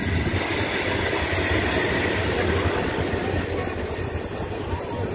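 A coal-loaded freight train rolls past close by at a station in India, a steady loud rumble of wagons with low rhythmic clatter that holds level for the whole stretch, with no voices over it.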